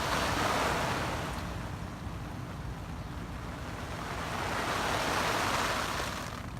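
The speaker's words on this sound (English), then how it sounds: "I think the lawn sprinkler represents sort of a medium rain." A lawn sprinkler sprays water onto a SnugPak Cave tent in a continuous, rushing hiss that swells and eases as the spray sweeps across, steady and close.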